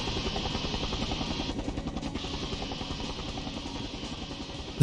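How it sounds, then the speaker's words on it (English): A helicopter in the video game 007 The World Is Not Enough drones steadily with a buzzing rotor and engine hum, moderately loud and continuous with a brief dip partway through. "let's go ahead and not get hit by the helicopter"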